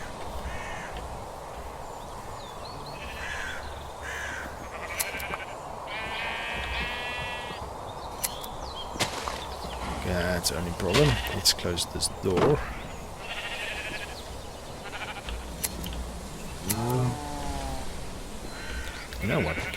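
Sheep bleat several times in a Minecraft farm, with wavering harmonic calls scattered between talking and clicky game sounds, and a brief burst of bleats near the end, moderately loud under the voice.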